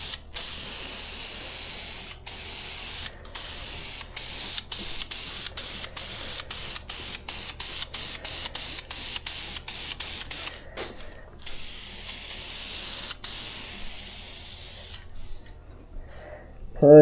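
A spray can of primer hisses in a long run of short, evenly spaced bursts as automotive car parts are coated, followed by a longer continuous spray, all close and fairly loud.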